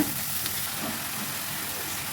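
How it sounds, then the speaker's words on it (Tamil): Cowpeas with onion and curry leaves dry-roasting in a pan, giving a steady soft sizzle and crackle that runs unbroken throughout, with no one speaking. "இதுக்கு தண்ணி எதுவும் வேண்டாம் ட்ரையாக வருத்தோம் அப்படின்னா சூப்பராக இருக்கும்"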